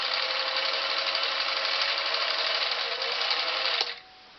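A Singer 457 Stylist sewing machine runs steadily through a zigzag stitch, a dense, even whir lasting several seconds before stopping abruptly near the end.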